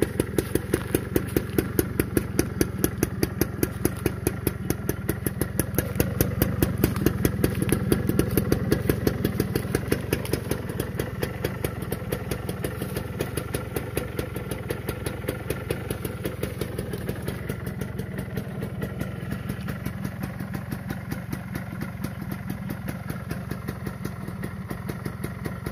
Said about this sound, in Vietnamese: Chạy Sibo mà các bạn không nghe tiếng bô thì uổng lắm đó.